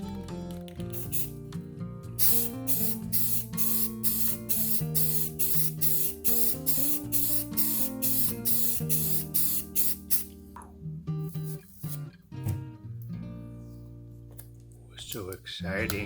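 Bursts of hissing black spray paint from an aerosol can, repeated in short pulses, with music playing underneath and a voice briefly near the end.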